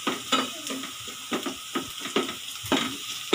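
Garlic sizzles steadily in a frying pan, with soft periodic scrapes and taps of a utensil stirring it at close range.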